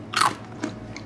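A close, sharp crunch as teeth bite into a crunchy golden bar snack, followed by a softer second crunch and a faint third as chewing begins.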